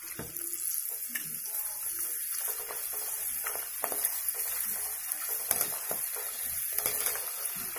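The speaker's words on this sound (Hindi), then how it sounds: "अब हम इसमें चिप्स को तलेंगे" Potato chips frying in hot oil give a steady, bright sizzle and crackle that runs throughout without pause, with scattered small pops rising above the hiss and no talking.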